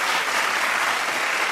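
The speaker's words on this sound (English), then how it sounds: "let's give our virtual clap to Dr. and Mrs. Robert and Tita Teresia Quito" Dense, steady applause for Dr. and Mrs. Robert and Tita Teresia Quito, sustained at an even level with no talk over it.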